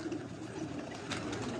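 Pigeons kept on a rooftop coo softly and steadily, with faint wing or chirp sounds near the end, set against a low background murmur.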